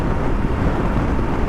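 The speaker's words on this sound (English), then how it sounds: "Oh, and the wind's, it's a bit windy too." Strong wind roars across the microphone outdoors beside a freshly washed BMW R100GS motorcycle left to air-dry, a loud, continuous low rumble with no voices.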